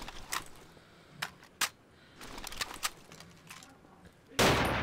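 Scattered single shots from a BAR M1918A1 rifle in the Garry's Mod game, sharp bursts spaced irregularly over a noisy background, ending in a louder, broader blast; no talking.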